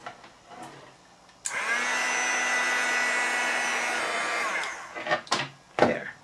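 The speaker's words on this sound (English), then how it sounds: "I'm going to use my embossing tool to get that ready" An embossing heat tool blows hot air onto heat-and-stick embossing powder, switching on with a steady, close whirring hiss for about three seconds before cutting off, followed by a few soft handling bumps.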